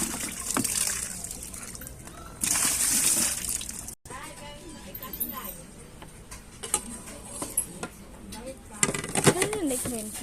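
Something being washed by hand in water while cooking pansit, with light splashing, sloshing and trickling in irregular bursts under people talking nearby.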